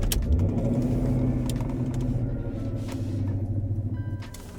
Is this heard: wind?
no